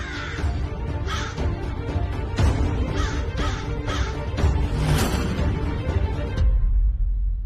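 A crow caws repeatedly and loudly close by, harsh rasping calls in a steady sequence over a constant background rumble, then abruptly cut off near the end.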